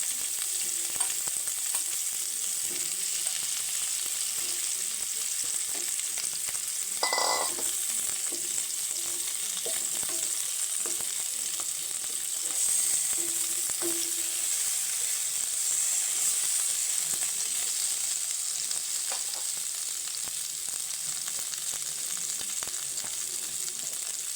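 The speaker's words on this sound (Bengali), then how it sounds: "এরপর আমি আলুটা ভেজে নেব" Cauliflower and potatoes frying in oil in a pan, a continuous crackling sizzle with occasional stirring scrapes and brief clatters, heard close up with no talking.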